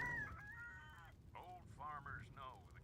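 A rooster crows inside a tobacco radio advert in the video game Wasteland 3, with several rising, stretched calls repeating over a few seconds, fairly close and clear.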